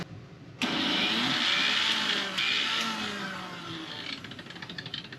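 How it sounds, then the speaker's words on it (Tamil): A mixer grinder switches on and runs loud and steady, grinding soaked, peeled almonds into a paste inside a caravan, its motor whine easing near the end into a rattling tail. "இதை மிக்சியில் போட்டு கொஞ்சம் பேஸ்ட் மாதிரி அரைச்சி எடுத்துக்குவோம்"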